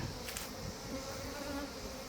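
Honey bees buzz steadily around an opened two-box beehive holding fifteen frames of honey, a dense continuous hum close by with no talk.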